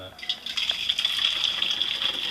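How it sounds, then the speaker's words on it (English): Whey drains from fresh homemade cheese poured into cheesecloth, a light continuous trickling and splashing of liquid that stays close and moderately quiet, with faint background noise throughout. "we're just going to pour this into the cheesecloth and drain the whey out"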